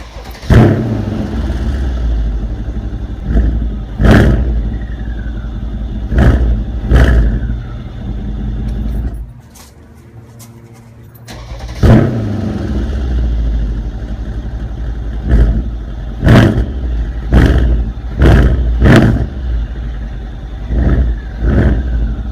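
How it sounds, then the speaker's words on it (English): A powerful 2014 Mercedes-Benz CLS63 AMG V8 engine revs repeatedly in sharp bursts, loud and close, with a brief quieter idle partway through before the blips resume. "AMG have done another great job on making a great sounding V8"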